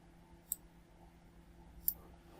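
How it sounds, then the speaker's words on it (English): A computer mouse gives two sharp, isolated clicks about a second and a half apart over a quiet background hum. "we click the link"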